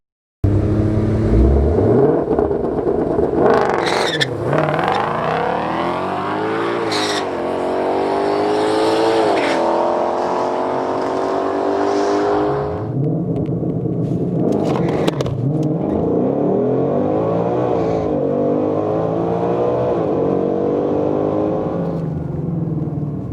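A 2020 Shelby GT500 launches down a drag strip, its engine roaring loud and close through repeated rising gear pulls and brief shift dips, sustained for over twenty seconds with no voices.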